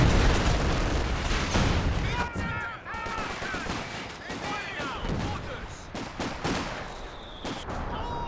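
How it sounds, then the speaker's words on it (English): Stolen Vickers machine gun fires in a 4v4 Company of Heroes 2 battle, sharp bursts of gunfire over a busy rumbling battlefield mix. "Now we blasting the MG out the back. It's the stolen Vickers."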